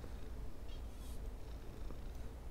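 A robot cat's purr in the Bear With Me game: soft, low, continuous rumbling purr, quiet and steady for a couple of seconds, with no talking.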